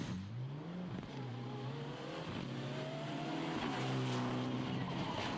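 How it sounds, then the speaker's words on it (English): A Mitsubishi rally car at the Rallye du Condroz in 2011 roars past the spectators, its engine revving hard and shifting through gears as it approaches and fades, loud and continuous throughout. "That's Van der Heuvel with the Mitsubishi again from the Netherlands."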